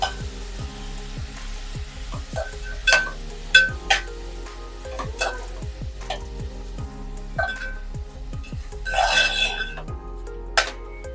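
Grated apple is stirred and sautéed in ghee in a pan, with a soft low sizzle under repeated scraping strokes and clinks of a spoon against the metal, close and uneven in rhythm.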